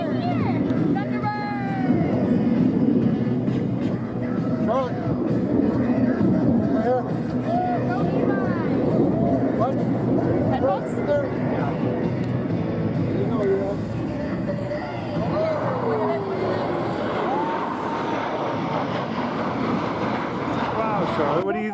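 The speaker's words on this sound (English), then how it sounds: "What about those airplanes?" Airplanes fly over an airshow in a loud, continuous engine roar that persists beneath a family talking and crowd noise around them.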